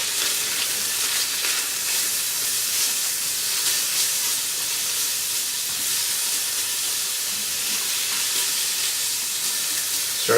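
Garlic sizzles in a hot pot while cooking Maryland-style crab soup, a steady close hissing fry that holds evenly throughout, with no talking.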